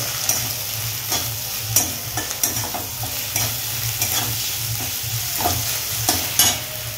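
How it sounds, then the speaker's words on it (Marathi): Onion frying in a pan for matki bhaji as ginger garlic paste is stirred in: a low steady sizzle with repeated sharp spoon scrapes and knocks against the pan, close and clear, with no speech. "तर कांदा आपला फ्राय होतोय तर आपण त्याच्यात टाकतोय आलं लसूण पेस्ट आणि ती पण चांगल्या प्रकारे मिक्स करून घ्यायची आपल्याला"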